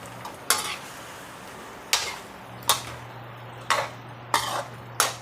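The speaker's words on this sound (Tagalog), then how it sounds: "Halo-haloin natin." Tinola, a Filipino chicken soup, being stirred in a pot: five or six separate utensil scrapes and clinks against the metal, spaced about a second apart, over a steady low hum, with no talk.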